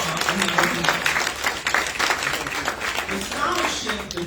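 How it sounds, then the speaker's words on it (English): Applause for Vice President Obama at a Hard Rock scholarship announcement on a college campus, a steady wash of many hands clapping throughout with voices mixed in. "let's give Vice President Obama an applause"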